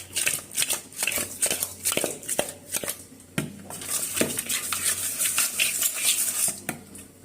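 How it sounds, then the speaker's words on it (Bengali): Rohu fish pieces being rubbed by hand with chili powder, turmeric and salt in a metal bowl, giving close, continuous wet squelching with frequent clinks and scrapes against the dish. "মরিচের গুঁড়া, হলুদের গুঁড়া আর লবণ দিয়ে নিয়েছি। মাছগুলো এখন মেখে নেব।"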